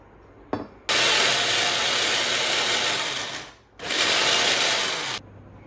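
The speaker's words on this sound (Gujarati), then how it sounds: "અને બ્લેન્ડ કરીશું." A blender grinds pani puri masala paste with water in a loud, steady whir that cuts out briefly and then runs again in a second burst, with a short click just before it starts.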